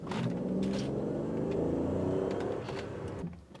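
A BMW E38 750i fitted with an 8HP gearbox pulls away in sports mode, its engine rising in a smooth, moderately loud acceleration heard from inside the car before it fades near the end.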